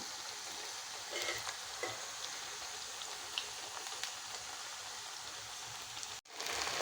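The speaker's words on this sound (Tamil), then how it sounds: "அப்படியே நல்லா பொரியணுங்க நல்லா பொரிஞ்சாதாங்க அந்த மஞ்சூரியன் செய்கிறதுக்கு நல்லாயிருக்கும் இது நல்லா பொரியட்டும்" Vegetable pieces for manchurian deep-fry in oil in a home kitchen, making a soft, continuous hissing sizzle that cuts out briefly near the end.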